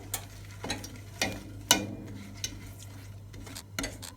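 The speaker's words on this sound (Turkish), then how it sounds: "Kaşık yardımıyla erimeyen yerleri de ezelim ki." A spoon scrapes and presses melting caramel in a pan, making a few separate knocks and scrapes over a low steady hum, close and fairly quiet.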